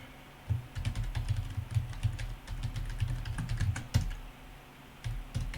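Code being typed on a computer keyboard, a close run of quick key clicks in uneven bursts with short pauses between them.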